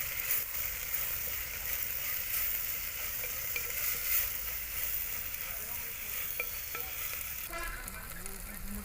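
Chopped medium-sized tomatoes fry and sizzle in a clay pot while being stirred, a steady close crackle running throughout with scraping stir strokes near the end.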